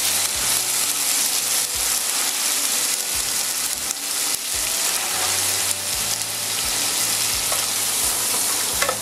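Chanterelle mushrooms fry in a pan with a dense, steady sizzle that runs throughout, broken by frequent low scrapes and stirring knocks; no one speaks.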